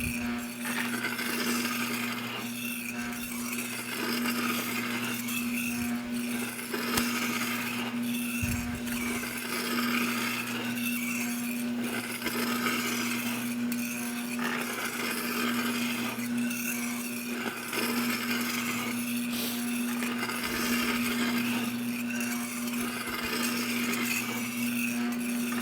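Homemade sand muller mulling a batch of sand, a steady continuous mechanical grinding and churning drone with a constant motor hum, loud and unbroken for the whole stretch with no talk.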